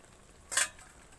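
A pot lid lifted off simmering vegetables (potato, eggplant and greens) in a home kitchen, one brief soft metallic clink with a faint burst of steam hiss, otherwise quiet.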